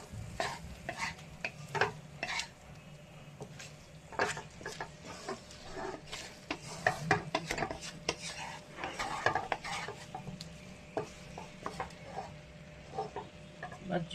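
Soft fish coated in spices is stirred in a pan, with repeated utensil scrapes and clinks over a low sizzle, close and without talk.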